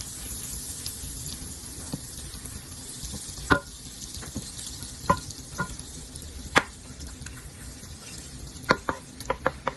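Unsalted butter melting and sizzling in a nonstick frying pan with avocado oil, a soft steady hiss punctuated by scattered pops and utensil clicks, faint and close.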